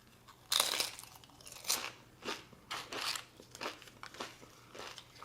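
Crisp corn chips with fresh cactus pico salad are crunched close up, a series of sharp, irregular bites and chews spaced about half a second apart in a quiet room.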